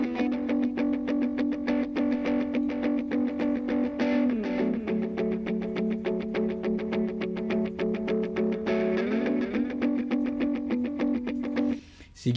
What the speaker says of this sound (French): la guitare 3-4 dans la reverb.